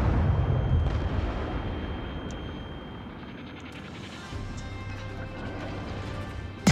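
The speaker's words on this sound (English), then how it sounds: "So now I can open fire on the Warships." Naval guns on the Polish destroyer Blyskawica fire high-explosive shells in World of Warships, with a loud booming blast that rolls off into a long rumble and a fresh heavy report at the end.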